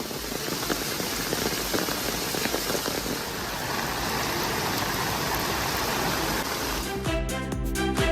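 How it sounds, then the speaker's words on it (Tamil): Heavy rain pours across villages in Tamil Nadu, a loud, dense, continuous hiss of water striking surfaces that runs for most of the stretch before ending abruptly in a brief burst of other noise. "பல்வேறு கிராமங்களில் பரவலாக மழை பெய்தது."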